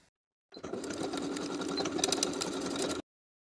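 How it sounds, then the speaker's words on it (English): A sewing machine zigzag-stitches overlapped swimsuit elastic in one steady, close run of rapid rhythmic stitching lasting about two and a half seconds, with silence before and after. "I'll overlap the short edges by 1/2 of an inch and zigzag to secure."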